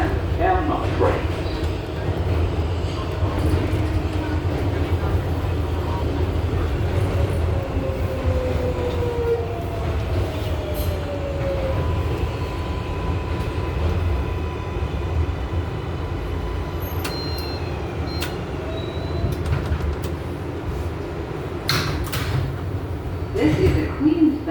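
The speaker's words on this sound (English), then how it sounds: "This is a Queens-bound 7 local train." Riding inside a New York City subway R188 car on a Queens-bound 7 local on the IRT Flushing line: a continuous rumbling roar of wheels and motors with faint squealing whines rising and falling, steady and close throughout.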